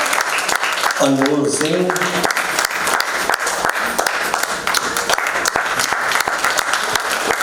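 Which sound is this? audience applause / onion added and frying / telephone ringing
audience applause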